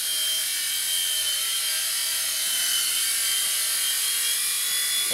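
A Blade Nano CPS RC helicopter fitted with a heavier full Rakon frame flies with a steady high-pitched electric whine from its straining motor and rotor, loud and close throughout with no talk.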